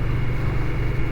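Indian Scout Bobber motorcycle engine and exhaust running, a loud, steady low rumble heard up close without any pauses.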